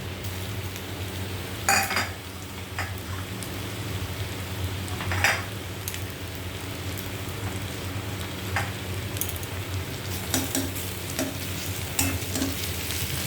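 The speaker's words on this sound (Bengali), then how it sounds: "পেঁয়াজটা ভাজা হয়েই এসছে হালকা, এবার থেতো করা রসুনটা দিয়ে দেবো" Onion and crushed garlic sizzling in a pan, a constant close frying hiss broken by several sharp stirring clinks and scrapes of a utensil, with no voices.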